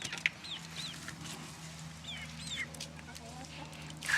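Chickens, good egg-laying hens, cluck softly in short scattered calls close by, heard under a quiet voice talking over a low background hum.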